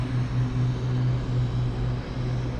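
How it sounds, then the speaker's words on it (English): Airbus A321 airliner on its takeoff roll at San Juan's Luis Muñoz Marín airport, a steady, heavy low engine roar that holds at a constant level from a distance, with no voices. "That A321 must be fully loaded. Nice long takeoff run."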